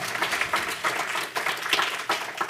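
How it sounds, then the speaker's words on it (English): An audience at an evening reception claps, a loose wash of hand claps rising and falling in uneven bursts, moderately close with no talk over it. "applause, I love it."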